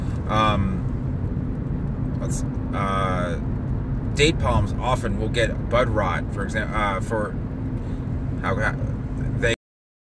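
Steady low rumble of a car on the road while driving past traffic, continuous under someone talking close by throughout, cutting off abruptly near the end.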